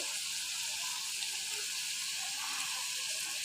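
Soaked lentils with salt and ginger-garlic paste frying in a pan, giving a steady bright sizzle that carries on evenly throughout at close range.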